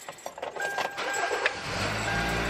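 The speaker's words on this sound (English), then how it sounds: "I think I'm gonna start the car first and get the air running" A car engine cranks and catches about halfway through, settling into a steady low idle that carries to the end, loud and close with no talking.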